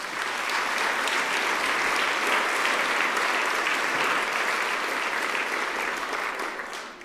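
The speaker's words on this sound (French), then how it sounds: "Je vous demande de les applaudir tous." Sustained applause from a seated audience at a foundation gathering, steady dense clapping filling the room for the whole stretch, tapering slightly at the end.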